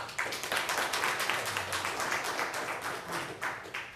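Audience members at a St. Charles County, Missouri council meeting give a brief round of applause, a moderately quiet, dense patter of clapping from a roomful of people.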